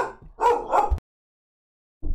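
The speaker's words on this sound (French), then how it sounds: "Chien qui s'est mis à aboyer." A dog barks twice in quick succession, close and loud, then falls silent before a faint yip returns at the very end.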